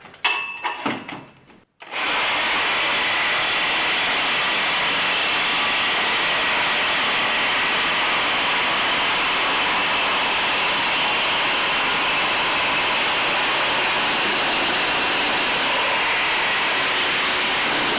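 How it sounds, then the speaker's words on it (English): A Sawzall reciprocating saw cuts through a vehicle exhaust pipe, a loud continuous buzzing rasp close by that starts after a short pause and runs steadily to the end. "I'm just gonna take my Sawzall and cut it off up here."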